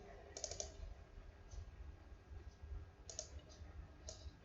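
Faint, sparse clicks of a computer keyboard as someone types in Google Forms, a handful of quiet keystrokes over a low background hiss.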